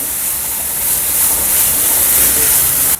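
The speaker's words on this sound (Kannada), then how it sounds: "ಟೊಮೆಟೊ ಹಾಕ್ತಾ ಇದ್ದೀನಿ ಟೊಮೆಟೊ ಸುರಿದಿದ್ದೀನಿ ನಾನು ಇದನ್ನು ಫ್ರೈ ಮಾಡ್ಕೊಳ್ಳಿ ಚೆನ್ನಾಗಿ ಫ್ರೈ ಆಗಲಿ ಇದು" Tomato and masala fry in a pan for a ladies finger dry fry, producing a loud, dense, continuous hiss of steam and sizzling that holds steady and drops off abruptly at the end, with no talking.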